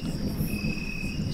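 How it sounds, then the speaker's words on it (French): Thunderstorm ambience generated in FlowScape 3D software: a low continuous rumble with a faint steady high insect-like whine above it, sustained and even throughout without distinct claps or voices. "c'est un orage. Je vais pouvoir générer aussi un effet sonore."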